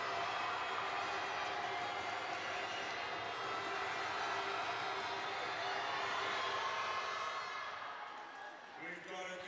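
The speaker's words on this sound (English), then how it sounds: "Just allows the crowd to crank the noise up a little bit more" A basketball arena crowd keeps up a loud, steady roar during free throws at a Newcastle Eagles versus Worcester Wolves game. The noise eases slightly near the end, and a commentator talks over it.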